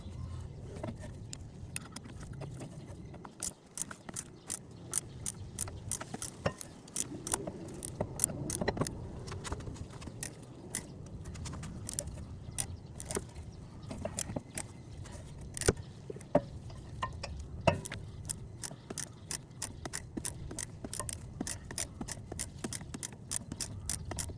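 A rear brake caliper piston tool with a two-pin adapter is turned on a 2010-or-later Mazda 3, giving a long run of quick, close metallic clicks and ticks with a faint rattle of keys underneath.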